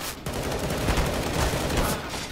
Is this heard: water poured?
no